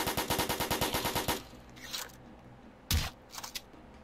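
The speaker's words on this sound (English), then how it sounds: "I have an SMG now" A submachine gun fires a rapid burst of about a dozen evenly spaced close shots in a ghost video game, then stops, followed by a few faint scattered clicks and thuds.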